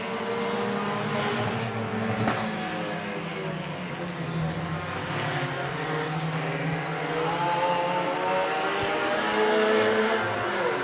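Hornet-class race cars lapping a short oval in an 8-lap heat race, several engines droning and revving together at steady loud volume throughout, with layered pitches as cars pass and jostle for position.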